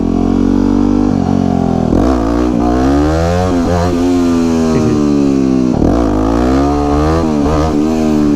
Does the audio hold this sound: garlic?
no